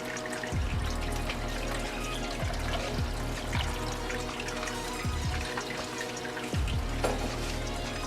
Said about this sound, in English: Next we're going to put in 1 cup of our cranberry juice.